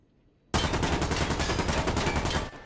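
Rifle fire in a video game, a loud rapid burst of shots sustained for about two seconds after a quiet start, with no talking.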